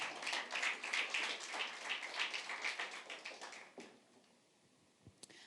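A church congregation claps in a sustained burst of applause during a celebration service that fades out after about four seconds. A couple of faint knocks follow.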